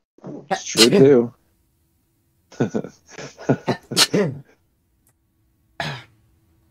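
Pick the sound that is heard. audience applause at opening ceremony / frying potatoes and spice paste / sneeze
sneeze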